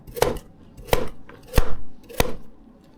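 Four firm, evenly spaced chops as a Pirge chef's knife cuts through a hard carrot and strikes the board beneath, close and loud with no voices.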